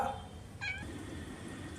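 A pet cat gives one short, close meow midway through, with a quiet room tone around it and a brief sharp sound at the very end.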